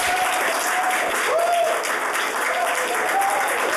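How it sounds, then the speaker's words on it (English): A studio audience at a Hollywood TV taping applauds on cue, a dense, steady wash of clapping with some crowd noise lasting the full few seconds. "applaud."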